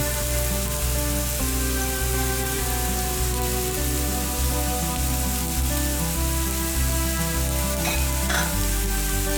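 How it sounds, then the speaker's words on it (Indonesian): Onion and mushrooms sauté in a frying pan, a loud, dense, continuous sizzle heard close up, with faint scraping of stirring underneath and steady background music throughout. "Tumis bawang bombay dan jamur menjadi satu."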